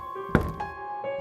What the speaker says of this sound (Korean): 노크 소리에 조심스럽게 스페이프가 문을 열었더니